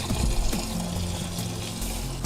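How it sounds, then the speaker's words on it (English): A steady stream of warm motorcycle engine coolant draining from a loosened drain bolt and splashing into a container nearby, continuous gurgling with no voices. "We're going to loosen that drain bolt and drain out the coolant."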